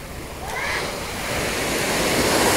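Sea surf washing onto the shore of a deep, steep-dropping coast on Samal Island, Philippines, a steady broadband rush that swells slightly louder toward the end, with wind noise on the microphone and no talk.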